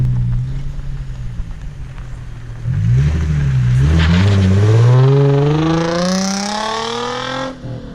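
An Infiniti G35 coupe with a straight-piped exhaust and limited-slip differential idles with a low rumble, then accelerates hard, the loud exhaust note climbing steadily in pitch through a rising rev before easing off.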